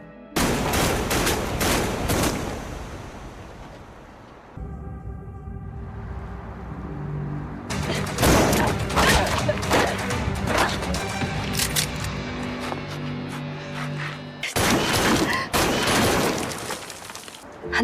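Movie gunfire in a sci-fi time-machine war story: loud, dense bursts of rapid automatic shots near the start, middle and end, broken by a tonal, musical stretch, with no talk.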